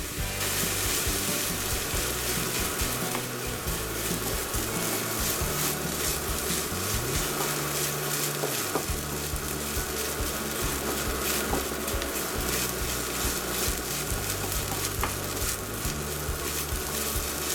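Shrimp egg fried rice with oyster sauce stir-fried in a wok, with continuous loud sizzling and scraping of a spatula through the rice.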